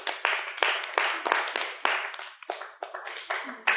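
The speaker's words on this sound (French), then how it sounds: "13 ans, applaudissons pour lui." A small group claps in a quick, uneven rhythm, close and fairly loud, with short overlapping slaps for a few seconds.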